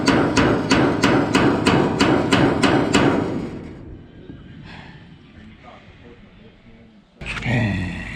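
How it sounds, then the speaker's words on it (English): An air hammer rattles in a rapid, loud burst of about ten evenly spaced hits while busting loose a lock collar, then stops, followed by a low rumble and a sudden loud clank. "I did it with an air hammer"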